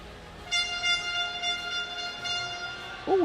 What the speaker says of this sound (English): we've got a hooter in the venue